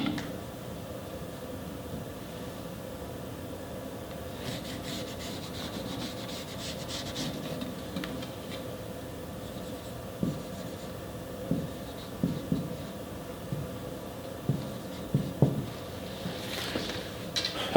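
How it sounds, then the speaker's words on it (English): A diagonal line drawn across a square for a geometry construction, a faint scratchy rubbing of pencil on paper, followed by several light taps and knocks toward the end. "Just simply draw a diagonal."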